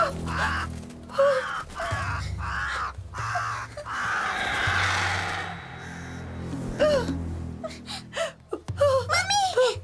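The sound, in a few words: crow cawing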